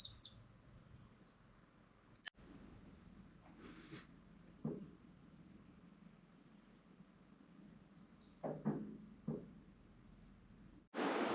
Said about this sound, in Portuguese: Só o barulho da água, dos passarinhos.